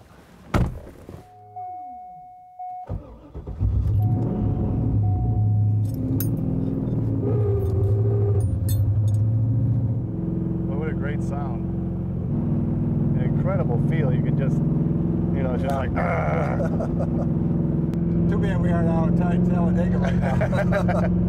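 A car door thunks shut, then a GM special vehicle sports car engine starts and runs loudly, revving steadily with voices talking over the rumble.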